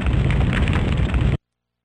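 Explosive blast from anti-aircraft cannon fire in the video game Silent Bomber, a loud, sustained roaring burst that cuts off abruptly, with no voices over it.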